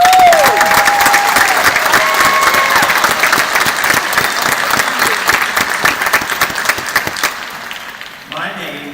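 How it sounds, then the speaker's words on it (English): Audience at a University of North Texas at Dallas graduation ceremony breaking into loud, sustained applause that slowly thins out, a few cheers mixed in, with a voice speaking briefly at the end. "Let's give them a round of applause."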